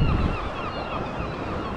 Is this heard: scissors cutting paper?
no